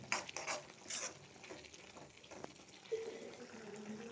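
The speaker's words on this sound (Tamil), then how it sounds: "இப்போ நல்லா கலக்கி விட்டுக்கலாம்." Spinach and tamarind kootu being stirred in a pot, with soft wet scraping and a few light clinks of the spoon against the metal, fairly quiet and close with no talking.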